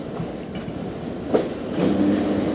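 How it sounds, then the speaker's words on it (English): A restored 1938 tube stock train arrives at New Cross Gate station with a continuous rolling rumble that swells near the end, a faint squeal of brakes rising as it pulls in. "Here it is seen arriving at New Cross Gate."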